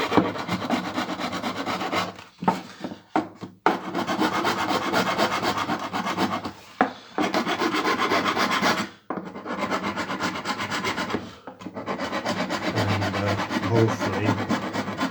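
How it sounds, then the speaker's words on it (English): Hand file rasping across the surface of a Victa Utility 125 plastic fuel tank to roughen it, with repeated close scraping strokes in bursts separated by short pauses. "maybe use a file it a little bit, make the surface a little rough."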